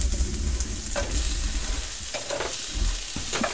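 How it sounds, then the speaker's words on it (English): Onions stir-fry in a pan with a continuous near sizzle and occasional scrapes and clicks as they are broken up and moved around. "put all of our onions in the pan, break them all up and get those cooking"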